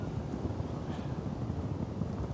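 Warm wind blowing across the deck of the expedition ship Hanseatic Spirit: a steady low rumbling buffet on the microphone, continuous and close, with no voices.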